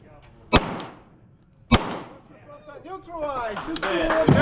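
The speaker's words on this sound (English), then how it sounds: "It has a small plate in the middle that, when struck squarely, pops up the head of the target" Gunshots strike a steel pop-up plate target at a shooting competition, two sharp loud impacts about a second apart, followed by a rising mix of voices and other sound.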